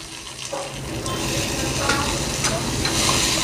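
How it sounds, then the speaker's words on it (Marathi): Mustard seeds, garlic, onion and tomato fry in a pan for a Konkani-style pumpkin bhaji, making a steady close-up sizzle with stirring scrapes that grows slightly louder. "आता आपण मस्त फ्राय करून घ्यायचं आहे एकदम लाल कलर"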